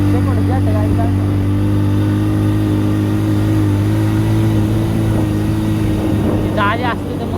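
Motorcycle started and revved on a Sunday ride along scenic roads: a loud, close engine holding a steady throbbing idle, with voices talking over it and a brief sharp rev near the end.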